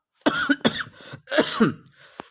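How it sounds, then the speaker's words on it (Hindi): Several harsh coughs in quick succession, close and loud, ending with a short throat-clearing rasp. "सॉरी स्टूडेंट, खांसी आ रही है"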